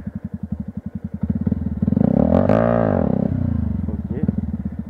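A Yamaha YZF 125 R motorcycle engine, close and loud, with a pulsing idle that rises into a revving surge as the clutch is let out for a wheelie attempt, then settles to a steady run.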